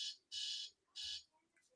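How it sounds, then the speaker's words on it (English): An electronic alarm beeps in short, shrill bursts, two long tones followed by fainter chirps, heard nearby in an otherwise quiet room. "That's my alarm to get my girl."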